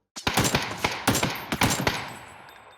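Gunshots ring out in a PUBG match on the snowy Vikendi map, a burst of about eight loud, sharp shots in uneven groups, each with a short echoing tail that fades after the last round.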